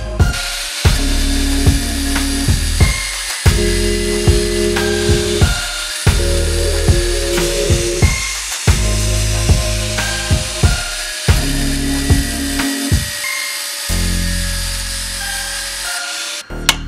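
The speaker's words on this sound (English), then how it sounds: "Now I made the hole and I'm going to cut the weld and remove" A power tool cuts through a weld on a go-kart built around a car alternator, giving a loud, high-pitched grinding whine in repeated bursts of a second or two with short pauses between them.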